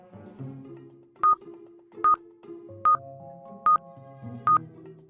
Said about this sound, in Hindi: मेहुल तुरंत ट्रैफिक पुलिस के हेड ऑफिस में फोन करता है